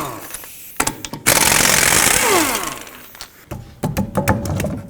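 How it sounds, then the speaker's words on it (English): Pneumatic impact wrench with a 19mm socket spinning lug nuts off a car wheel during rear brake work on a 2007-2009 Saturn Aura, a loud buzzing burst of a couple of seconds framed by clanks and taps. "just go ahead and take off the lug nuts with a 19mm"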